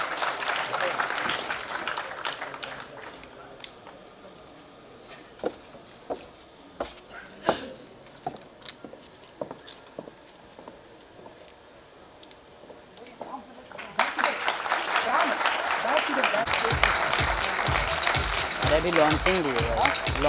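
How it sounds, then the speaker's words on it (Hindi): Audience applause breaks out loud and sustained as an actress is welcomed onto the stage at a Hindi cultural event, following a stretch of speech with scattered sharp sounds. "आपके तालियों के साथ हम दिव्यांका जी को मंच पर आमंत्रित कर रहे हैं।"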